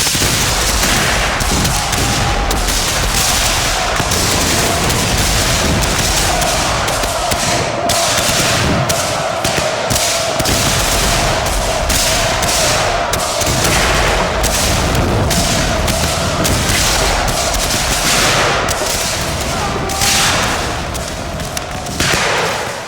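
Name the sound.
rifle volley gunfire sound effect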